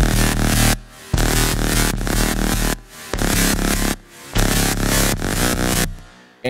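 Future bass chords with a heavy sub bass layered under mid basses pulse in loud sustained blocks, cut by short rhythmic gaps, with no voices.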